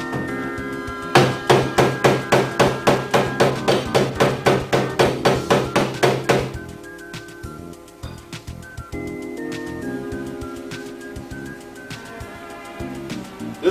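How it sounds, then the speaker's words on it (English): Steel hammer blows on sheet metal during auto body repair, driving out metal that pokes up along the top edge: about twenty sharp, evenly spaced ringing strikes, close and loud, then quieter scattered taps and shop noise. "And hammer the metal that is poking out up here at the top."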